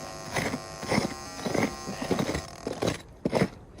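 A radiation detector, used while prospecting for radioactive minerals near Petaca, New Mexico, crackles and buzzes in uneven bursts, the clicks swelling and fading close by with no voices.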